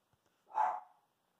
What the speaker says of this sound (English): that's the dogs barking at something